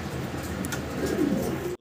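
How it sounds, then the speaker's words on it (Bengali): A pair of large fancy pigeons coo softly at close range, a short low throaty call over a quiet background. "বিশাল বিগ সাইজের কোয়ালিটি সম্পূর্ণ এক জোড়া কবুতর"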